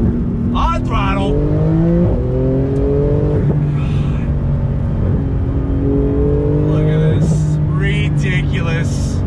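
A Porsche 911 GT2 RS engine revs and accelerates hard, pitch climbing through repeated paddle-shifted gear changes, loud and close.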